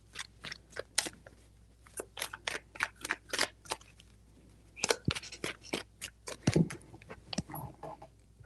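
Tarot cards are shuffled by hand in quick bursts, crisp close-up riffles and slaps in an irregular rhythm, with brief pauses between shuffles and no talk.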